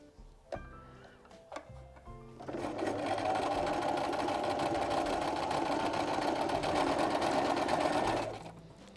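A sewing machine stitches the two handles of a fabric tart-carrier bag, starting after a few short hand clicks and then running in one steady, continuous whir for about six seconds before stopping.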